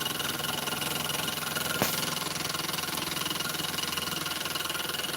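A small model steam engine runs steadily, its fast, even mechanical chuffing continuous and fairly loud throughout, with one brief sharp click partway through.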